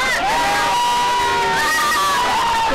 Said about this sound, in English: Crowd reaction.